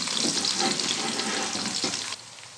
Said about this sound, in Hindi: कढ़ाई में मैंने आयल डाला हुआ है और इसके अंदर डाल दूंगी मैं प्याज, इसे थोड़ा सा फ्राई करूंगी।